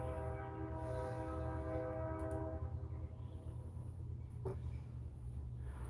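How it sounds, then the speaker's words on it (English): A steady low rumble of a passing train with a sustained multi-tone horn blast that fades after a couple of seconds, heard from a distance. "Y'all hear that train?"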